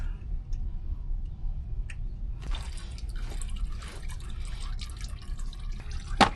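Engine oil draining from a 2014 Toyota RAV4 into a pan, faint trickling and dripping over low garage hum, with a few small clinks of tools nearby.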